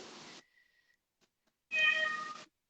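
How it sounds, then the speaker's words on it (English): A cat gives two short meows close by, a brief one, then a pause with near silence, followed by a longer, louder, tonal meow. "oh, I hear a kitty."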